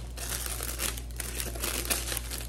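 A plastic gift basket bag crinkles and rustles in short, close bursts as tape is laid down and pulled tight over it, alongside a low steady hum.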